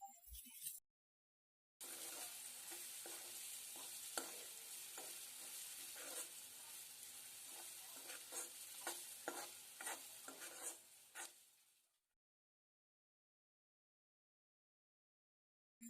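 Chopped onions fry in a pan for a taro root curry, giving a steady, dense sizzle with repeated clicks and scrapes of stirring. The sound runs alone and fairly close, then cuts off abruptly.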